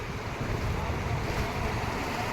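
A river running high flows toward Mukteshwar Dam, a steady, dense rush of water heard close with wind buffeting the microphone, continuous throughout with no voices.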